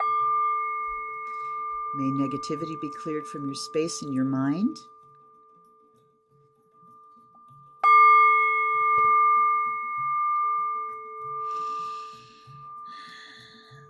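A meditation bell rings during a full moon reading, its sustained shimmering tone hanging through the whole passage and freshly struck once midway, with a calm spoken voice before and after the strike.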